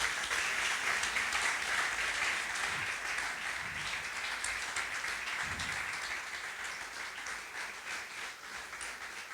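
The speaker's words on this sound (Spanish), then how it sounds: "aplauso al Señor" A church congregation at a Sunday morning service gives sustained applause to the Lord, a steady, dense roar of clapping that holds for the whole stretch and eases slightly toward the end.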